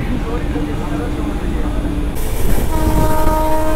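Navajivan SF Express passenger train rolling along with a steady broadband rumble of wheels and carriage, then a loud sustained horn blast cutting in partway through and holding to the end.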